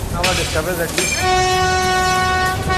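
A commuter train on Mumbai's heavily used suburban line rumbles loudly past at close range, its horn sounding a long sustained blare over the heavy rolling noise of the cars.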